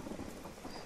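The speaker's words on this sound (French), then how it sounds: "Il pleut, il pleut." Rain and rolling thunder from a video game storm, with lightning following the player; a steady wash of rainfall under low, continuous rumbling, fairly quiet and without speech.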